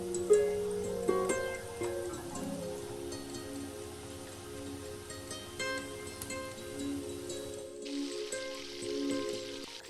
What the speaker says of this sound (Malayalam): ഇനി നമ്മൾ ജാമുൻസ് സ്ലോലി ഓയിലിലേക്ക് ആഡ് ചെയ്യുക.